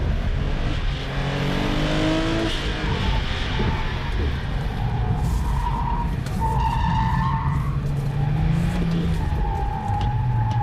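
A Porsche 996 Turbo slides with oversteer on a race track, tires squealing in long wavering tones over a loud, steady engine roar that rises and falls as the car drifts through the corner, close and continuous throughout.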